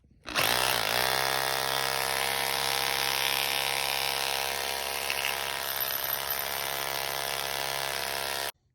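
A Makita combination hammer drill whirs up quickly and runs at a steady, high-pitched whine for several seconds before cutting off abruptly.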